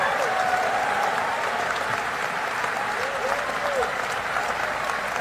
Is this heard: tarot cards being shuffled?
no